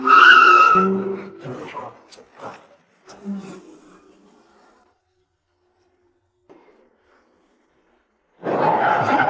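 A car tears away at speed with tires skidding: a loud screech at the start, scattered quieter knocks and engine sounds, then another loud roaring burst at the end.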